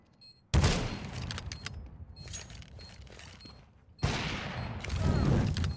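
Bursts of gunfire in the video game CS:GO, a loud burst near the start and another after a pause, with scattered shots and thuds between.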